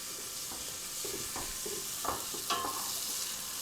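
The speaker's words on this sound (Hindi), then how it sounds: "अब हम इसको फ्राई कर लेंगे हल्की आंच पे।" Raisins frying over a low flame in a pan for Kabuli pulao, a steady soft sizzle with occasional light stirring scrapes, fairly quiet and close, with no talking.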